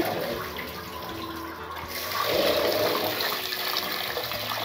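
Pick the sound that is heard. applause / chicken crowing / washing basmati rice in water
washing basmati rice in water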